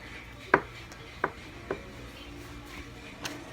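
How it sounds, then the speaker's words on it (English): A knife cuts butter into cubes on a board while making apple strudel, giving a handful of quiet, sharp taps spaced irregularly against a soft background hum. "we're going to take about 2 pieces of our butter and we're going to cube it"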